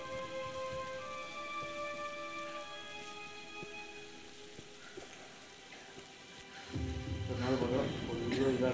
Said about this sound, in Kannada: ಸ್ವಲ್ಪ ಮಳೆ ಬರ್ತಾ ಇದೆ